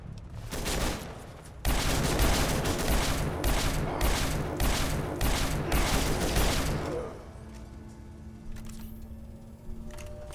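A laser rifle fires in rapid repeated bursts in the video game Fallout 3, loud sharp zaps in a dense volley that stops, leaving a quieter stretch of game ambience.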